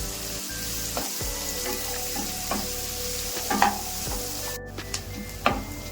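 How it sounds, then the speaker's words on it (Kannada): Three chopped onions and green chillies fry in hot oil, a steady close sizzle broken by scraping stirs and a few sharp clinks of the spoon against the pan, no talking. "ಇದು ಮೆಣಸಿನ್ಕಾಯಿ ಸ್ವಲ್ಪ ಫ್ರೈ ಆಗ್ತದಂಗೆ ಒಂದು 3 ಈರುಳ್ಳಿ ಕಟ್ ಮಾಡಿ ಇಟ್ಕೊಂಡು ಹಾಕೊಂತ ಇದ್ದೀನಿ"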